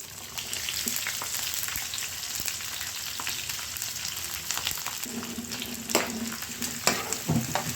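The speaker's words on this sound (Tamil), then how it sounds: "இப்போ அதாவது லைட் ப்ரௌன் கலர் ஆகிற வரைக்கும் வெங்காயம் வதக்கிடலாம்." Onions sizzle and fry steadily in a pan until light brown for fish curry, with occasional scraping and stirring clatters near the end.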